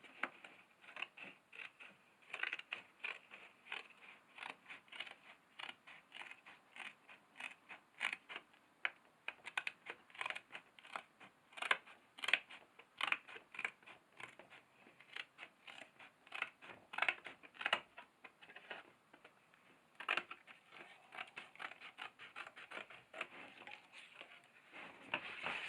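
Scissors cut paper into strips in a long, busy run of quick, close snips and crisp rustling that continues throughout, with no voice.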